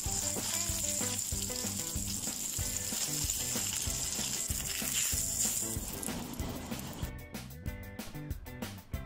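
A red snapper fillet sizzles skin side down on a grill, a loud steady frying hiss with popping crackles close up, alone without voices.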